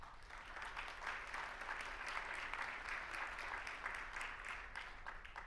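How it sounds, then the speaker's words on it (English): Audience applause at an educational leadership summit, steady moderate clapping from a crowd heard across the whole stretch, fairly quiet and even. "Can we give them a round of applause?"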